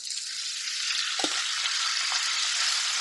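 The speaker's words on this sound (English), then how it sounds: "You can hear that sizzle." Loud, steady sizzling of two pounds of seasoned chicken breast frying in a hot pan, with a few soft scrapes of a utensil stirring, close up.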